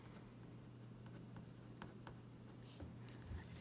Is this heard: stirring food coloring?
no